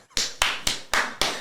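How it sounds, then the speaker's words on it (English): Five sharp, evenly spaced claps ring out close and loud in quick succession, like a small burst of applause from a tiny audience. "Sorry, applause."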